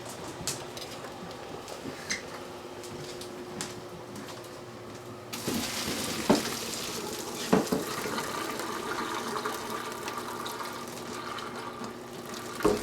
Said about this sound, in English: Okay, so first I'm going to dump the water.